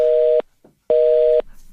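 A telephone busy tone sounds after a call disconnects: two loud, steady beeps, each about half a second long, separated by a brief gap.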